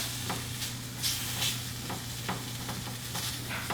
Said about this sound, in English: So give this a little stir.